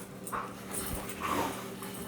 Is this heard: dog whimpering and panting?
yes